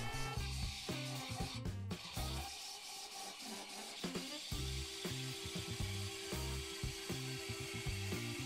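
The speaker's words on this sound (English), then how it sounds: "so I'm parting it off of a 3/4 inch thick ring" Parting off a birch ring on a wood lathe, a steady rhythmic hum from the spinning workpiece with scraping cuts of the tool on the wood, close and fairly quiet, with no voices.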